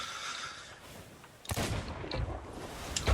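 Cannon fire booms in a pirate ship video game, a sharp, loud blast followed by rumbling and further bursts, with no talking.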